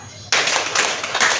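Students at a junior high school clap as a group in a counted clapping game, a sustained run of rapid, loud, overlapping claps after a quiet start, with voices mixed in.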